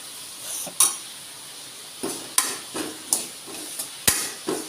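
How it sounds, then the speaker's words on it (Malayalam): Masala with garam masala for beef chops being sautéd in a pan, a series of sharp metallic spoon knocks and scrapes against the vessel at irregular intervals over a faint background hiss, close, no speech. "ഇത്രയും കൂടിയിട്ട് നന്നായിട്ട് വഴറ്റിയെടുക്കണം."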